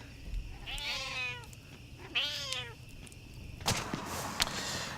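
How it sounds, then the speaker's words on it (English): Several cats meow one after another, two long rising-and-falling meows followed by a rougher, higher cry, fairly close and clear over a quiet background. "Well, I never thought I'd say this, but this is too many cats."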